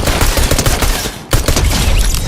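Dense, loud pistol and SMG gunfire in Fortnite, with rapid overlapping shots in a continuous barrage and a brief gap midway.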